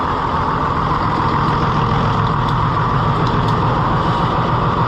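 An Oliver Super tractor engine idling steadily at close range, a continuous low, even rumble with no one speaking.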